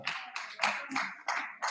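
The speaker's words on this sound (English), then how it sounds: "give him a round of applause for recognizing himself with you" An audience claps at a university life sciences faculty orientation in a few sharp, separate bursts about a third of a second apart, close and crisp with no talk.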